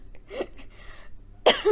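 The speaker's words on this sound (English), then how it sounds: "She's coughing after my jokes." A woman coughs a few times during a League of Legends LFL 2021 playoff broadcast, a short throaty burst early then a sharper, louder cough near the end, close to the mic.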